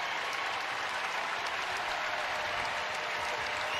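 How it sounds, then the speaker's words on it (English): A sellout basketball arena crowd at a UConn versus Villanova game roars and applauds in a steady, dense wash of cheering that fills the space without letup. "the sellout crowd tonight will make some noise"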